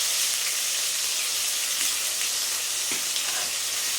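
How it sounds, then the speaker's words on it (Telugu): Ginger garlic paste and turmeric fry in a pan, giving a steady, close, hissing sizzle that runs unbroken, with one or two faint utensil taps. "కొంచెం అల్లం వెల్లిపాయ పేస్ట్ వేయించుకోవాలి."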